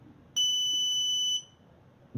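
A single short electronic beep, about one second long, from an Arduino-controlled model railway level crossing alarm, clear and steady against a quiet background.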